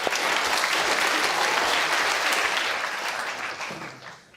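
Loud, sustained applause from an audience fills the whole stretch, dense and steady before gradually thinning and fading toward the end.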